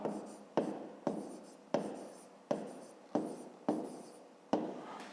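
Writing out a fifth-grade math exercise gives about seven evenly spaced scratchy strokes on paper, each starting sharply and fading, close and fairly quiet.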